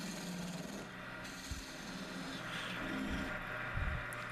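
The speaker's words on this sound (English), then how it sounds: "Just a friction polish." An ironwood wand is friction-polished on a lathe, making a soft, steady rubbing rasp with a few brief scuffs and knocks, close but fairly quiet, no talk.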